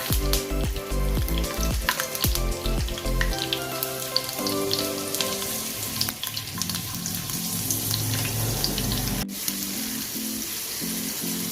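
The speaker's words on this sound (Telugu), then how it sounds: "ఎండుమిరపకాయలు ఫ్రై అయిన తర్వాత కరివేపాకుని యాడ్ చేసుకోవాలి. అలాగే వెల్లుల్లి రెమ్మల్ని కూడా యాడ్ చేసుకోవాలి" Dried red chillies, curry leaves and garlic cloves frying in hot oil for a Telugu ivy gourd chutney, a steady close sizzle running throughout with occasional clinks and stirring, and no one speaking.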